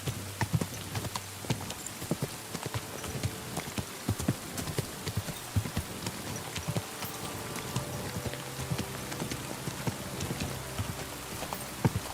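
Continuous rhythmic clip-clop of horse hooves at a steady trot in the video game Kingdom Come: Deliverance II, crisp and close, with no talking.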